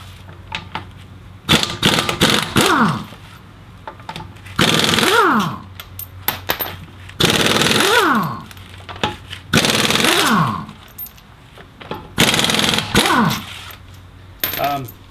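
An impact wrench fitted with a 19 mm socket removes the rear wheel nuts on a 2004 Volvo XC70. It fires in about six loud, rattling bursts of a second or so each, separated by short pauses.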